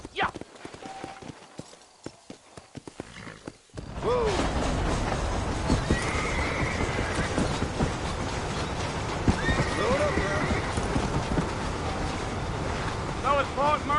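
Horses in the Red Dead Redemption video game whinny and clip-clop along under steady wind noise after a quiet opening, with voices talking over the hoofbeats.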